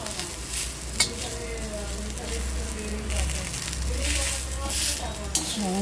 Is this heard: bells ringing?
no